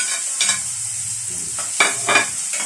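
Garlic and chili frying in a pan outdoors, with a steady loud sizzle broken by several bursts of stirring and scraping at close range, no talking.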